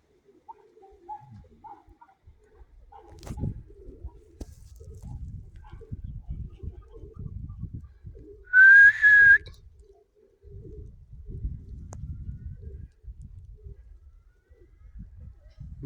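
A single clear pigeon call rises above steady low rumbling outdoors, near the middle, while pairs of white pigeons are flying about; the rest is soft background noise with no talk.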